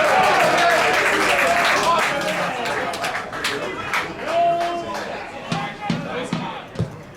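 Football crowd at a non-league match between New Milton Town and Bemerton Heath Harlequins, applauding and cheering at full time, loud at first then thinning out with scattered claps and voices.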